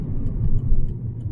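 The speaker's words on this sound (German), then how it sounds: "Ich bremse bei 50 ab" A car decelerating under braking from 50 km/h with a vibrating steering wheel, heard from inside as a steady low road and engine rumble, fairly loud, with no talking and no distinct brake squeal.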